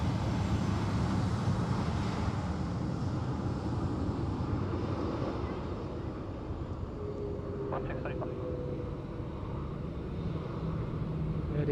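A jet airliner taxis out of Terminal 3 at Sydney Airport, its engines giving a steady low distant rumble with a faint higher whine.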